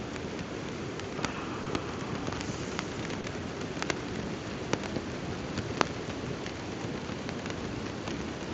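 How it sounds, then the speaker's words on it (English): Steady rain falling on a tent, a dense, even hiss with scattered sharper drops tapping the fabric throughout, close and continuous with no voices. "That's the rain finally on."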